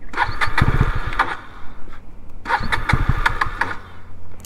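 A KTM Duke 250 Gen 3 motorcycle cranks over in two loud, close attempts, each a rough starter-and-engine burst lasting about a second, with a short quieter gap between.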